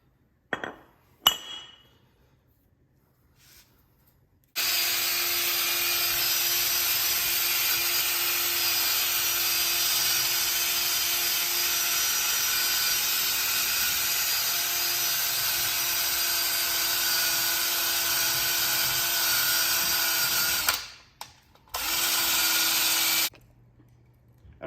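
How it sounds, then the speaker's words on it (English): A cutting tool grinds through the tips of Ford F-350 wheel studs in a single long, loud, steady whine of about sixteen seconds, followed by a shorter second pass, with a few clanks before it starts. "I did have to cut the nubs off, just the tips of these studs"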